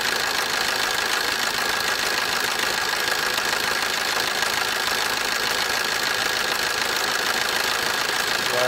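A 2009 Opel Agila DTI diesel engine idles steadily and continuously while warming up, with a dense, even rumble and slight knocking texture, no voices, constant in level throughout.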